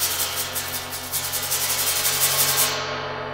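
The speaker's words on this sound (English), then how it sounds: "you can use the brushes, especially on like the earth gongs, because they have the real bumpy surface with the hammer marks" Brushes are rubbed along the ridged, hammer-marked edge of an earth gong, making a close, steady scraping with rhythmic strokes that cuts off near the end.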